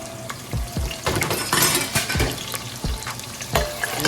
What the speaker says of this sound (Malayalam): ഇനി എണ്ണ ചൂടായതിനു ശേഷം നമ്മൾ ഇതിലേക്ക് പച്ചമുളക് അതുപോലെ തന്നെ വെളുത്തുള്ളി ചേർക്കുക